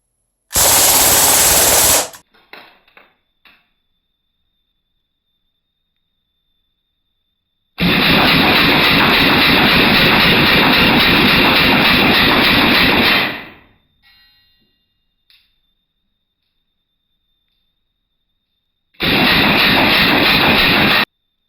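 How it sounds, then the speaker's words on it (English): A Crosman DPMS SBR air rifle fires full auto in three loud, rapid bursts, the first and last short and the middle one lasting about five seconds, with near silence between them. "Okay, full auto with the DPMS."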